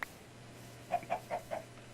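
A chicken clucks in Minecraft, four short soft clucks in a quick uneven run, faint and alone over a low steady hum.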